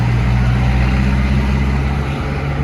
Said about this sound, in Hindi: आवाज़ देखो ट्रैक्टर की